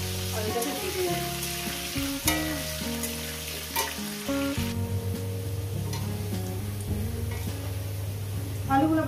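Salted, turmeric-coated potatoes fry in oil in a pan, a steady close sizzle running beneath sustained tonal background music, with occasional sharper crackles.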